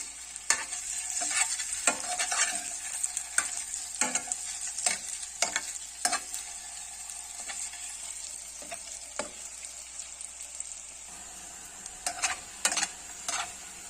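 Sweet banana paniyaram batter sizzles steadily in a hot pan while a utensil stirs and scrapes it, giving repeated close knocks and scrapes over the continuous frying hiss, with no speech.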